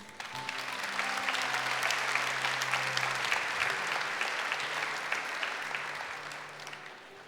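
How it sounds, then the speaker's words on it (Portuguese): A church congregation applauds during a sermon by a deacon. Dense, sustained clapping carries on for about seven seconds over a soft, held instrumental tone, then tapers slightly at the end. "Vamos aplaudir a família"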